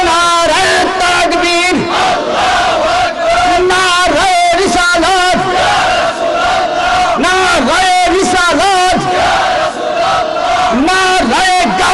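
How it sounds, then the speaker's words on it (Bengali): A large crowd at an Islamic sermon gathering in Bangladesh shouts the takbir together, loud and close, in repeated rhythmic call-and-response waves that fill the whole clip. "একটা তাকবীর দেন না"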